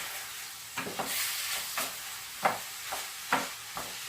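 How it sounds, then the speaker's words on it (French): Rice stirred in a pan with oil and mushroom juice gives a soft steady sizzle, with a spatula scraping in a loose rhythm of several distinct strokes, close and fairly quiet. "vous mélangez bien pour que le riz s'imprègne bien de l'huile et du jus"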